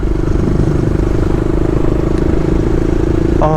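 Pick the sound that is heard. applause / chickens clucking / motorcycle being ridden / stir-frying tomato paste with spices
motorcycle being ridden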